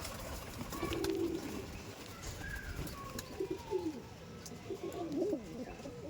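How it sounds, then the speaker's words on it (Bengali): A tiger breed pigeon coos several times nearby in soft throaty bursts, while faint chirps and low background rumble fill the coop. "এই যে পেয়ারটা ডাক দিল এক্ষুনি এটাকে টাইগার ব্রিড বলে কাকু"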